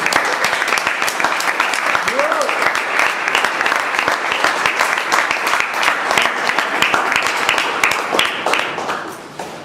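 An audience at a gathering gives loud, sustained applause for the women attending, a dense wash of clapping that holds steady for several seconds before tapering at the end.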